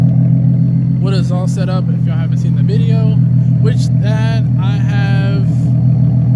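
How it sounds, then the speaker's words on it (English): A Nissan 370Z fitted with an ISR exhaust and test pipes idles with a loud, steady low rumble, barely revving, while someone talks over it almost continuously. "Let me give y'all a good rev."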